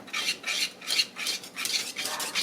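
Rhythmic rasping strokes of a utensil stirring vanilla into coconut cream pie filling in a bowl, steady repeated swishes about every quarter second, close and moderately loud with no talking.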